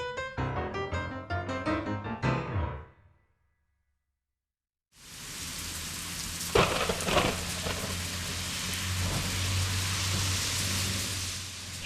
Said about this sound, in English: Heavy rains put temporary BMPs to the test.